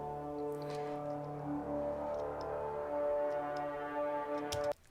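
A granular pad from a modular synth, run through an Eventide H9 pedal, sustains as a dense harmonic drone with faint ticking grains on top, then cuts off abruptly near the end.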